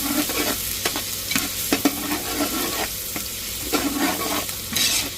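Chopped spring onion bottoms sizzle while being stir-fried in a pan, a continuous close crackle with intermittent scraping and stirring knocks.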